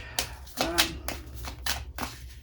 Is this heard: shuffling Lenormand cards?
yes